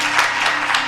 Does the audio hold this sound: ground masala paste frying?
no